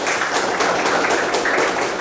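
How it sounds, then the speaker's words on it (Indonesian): A crowd applauding at an event in Indonesia, continuous dense clapping filling the room at a steady level with no talk over it. "Sekali lagi berikan tepuk tangan untuk Kang Rian."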